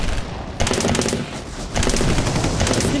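A battle scene in an Egyptian drama fills with dense gunfire, rapid machine-gun bursts and overlapping shots coming in loud, continuous volleys.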